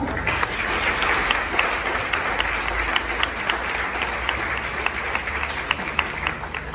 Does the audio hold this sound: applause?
yes